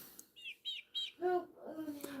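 Several bright, rapid chick chirps repeat in a quick series close by, followed by lower bird-like calls, with a voice speaking to the young birds around them.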